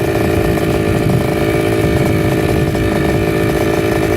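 A Kawasaki KX 65 dirt bike with an FMF Turbinecore 2 exhaust idles loudly and steadily up close while warming up, its exhaust putting out a constant buzzing rumble throughout.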